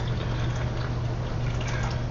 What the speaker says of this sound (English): I pour my coffee from the top,